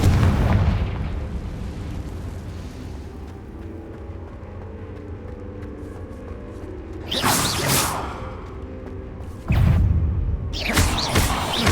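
In the video game Hogwarts Legacy, the fiery Confringo blast spell sets off two loud explosive bursts with a whooshing rush, fired after a low rumbling stretch of battle ambience.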